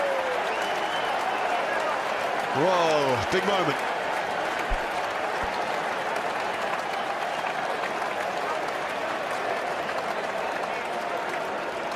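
A cricket crowd applauds a wicket taken by England bowler Overton, a steady wash of clapping that holds for the whole stretch while a commentator speaks briefly near the start.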